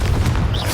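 Confringo blasting spell in the Hogwarts Legacy video game goes off as one short, loud, booming explosion with a deep low rumble and a brief fizzing tail.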